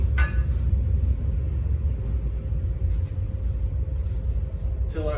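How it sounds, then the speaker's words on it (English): A train rumbles steadily in the background at a metal-working site, with a continuous low roar and faint metallic clinks throughout, no speech over it. "Hopefully the train in the background isn't too loud."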